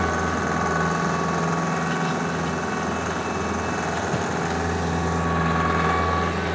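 A tractor runs a Maschio power harrow in a garden, giving a steady, loud mechanical drone with constant engine hum and rattling vibration throughout and no talking.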